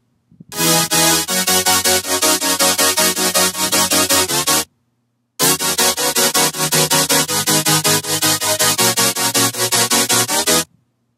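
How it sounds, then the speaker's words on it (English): Main synthesizer of a heavy future bass track played solo, loud bright chords pulsing in a fast, even rhythm, one phrase, a short gap, then the phrase repeated. "So the first sound we got here is the main kind of synthesizer"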